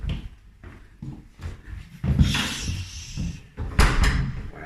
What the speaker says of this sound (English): And you come through this door here.